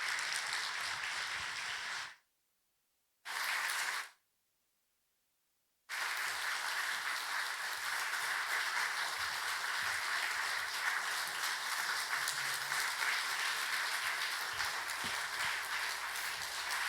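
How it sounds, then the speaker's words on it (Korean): Applause in a church gathering welcoming two guests onstage, a faint, distant, steady patter of clapping that drops out briefly near the start and then continues evenly. "두 분 박수로 모시도록 하겠습니다."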